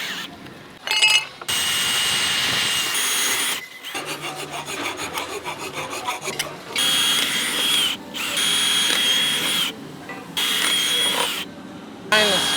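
A power drill bores into stainless steel rigging hardware on a sailboat, with loud grinding bursts broken by short pauses and a pulsing, rattling stretch in the middle.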